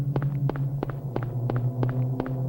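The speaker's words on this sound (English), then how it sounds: "Heard footsteps." Footsteps in the Silent Hill video game, a steady walking rhythm of about seven evenly spaced steps over a low droning hum.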